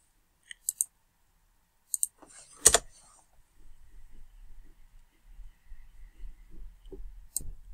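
A few sharp mouse clicks ring out close by, spaced apart as a Trello board gets made on a computer, with faint low background noise in between.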